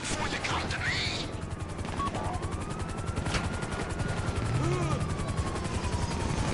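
A helicopter's rhythmic rotor chop runs steadily in a Grand Theft Auto 5 online session, with rapid bursts of gunfire, faint engine whine, and voices talking over the noise.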